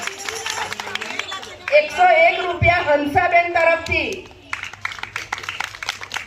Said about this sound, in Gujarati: 101 તાળીઓ પાડો બેન